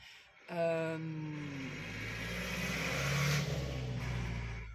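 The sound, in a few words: truck passing by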